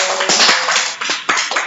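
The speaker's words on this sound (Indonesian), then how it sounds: "kasih aplaus buat Lana" Brief burst of audience applause for a participant named Lana during a training session on engine fault codes: close, dense clapping that swells, dips, then comes in a few fresh rising bursts.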